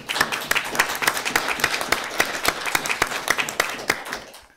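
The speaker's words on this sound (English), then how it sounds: "Could I ask for a round of applause" Applause breaks out in a council chamber as members welcome a new councillor, a dense run of many hands clapping at steady volume that fades out at the end.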